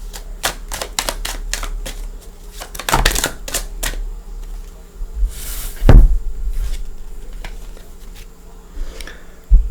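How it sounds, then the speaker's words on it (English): Tarot cards being shuffled by hand, a run of crisp close riffling taps and flicks in uneven bursts, with a louder cluster near the middle and occasional soft knocks. "I think I'm going to shuffle for your cards."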